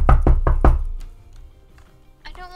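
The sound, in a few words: knocking on a door in a video game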